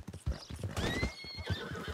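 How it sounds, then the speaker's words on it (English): Video game horse hooves clip-clop in a quick, steady rhythm up close, with a horse whinnying over them midway through, in Red Dead Redemption 2. "Strong, independent horse, Abigail."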